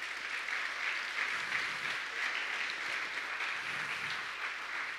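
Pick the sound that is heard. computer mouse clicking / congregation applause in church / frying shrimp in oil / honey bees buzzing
congregation applause in church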